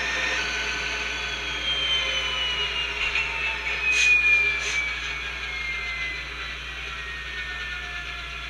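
A steady diesel engine drone from a RailPro sound system on a battery-powered, radio-controlled Bachmann Climax model locomotive rumbles continuously, with a faint rising whine and a brief hiss in the middle; no talking.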